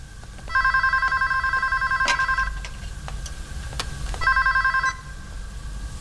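A telephone rings in two electronic bursts, each a rapid trilling ring about two seconds long, with a pause between them and soft background noise.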